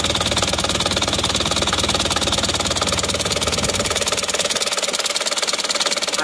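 A car engine in normal condition runs with a fast, even, rattling pulse that is loud, close and steady, easing slightly toward the end with no talk over it.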